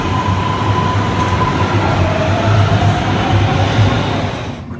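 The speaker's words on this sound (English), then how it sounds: "We're talking quietly because we're in the subway right now." Inside a moving subway train, a loud continuous rumble of wheels on rails fills the car, with a faint metallic squeal drifting through and the noise easing slightly at the end; no voices are heard.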